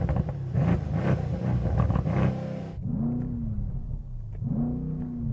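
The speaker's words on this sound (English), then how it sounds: "Which of these two cars sounds the best? The V8 in this, or the straight six in that?" Two performance estates, a Mercedes-AMG C63 S with a V8 and a BMW M3 with a straight six, rev while stationary: a dense, loud roar that cuts off, then two separate rising-and-falling blips against the soft limiter.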